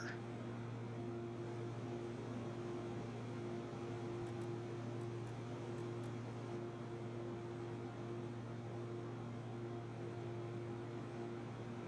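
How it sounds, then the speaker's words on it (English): A C90 King Air turboprop in X-Plane 11 on its takeoff run out of Cape Cod Gateway Airport gives a steady, even engine drone with a low hum that holds throughout, and no one speaks. "Okay, we're airborne and on our way."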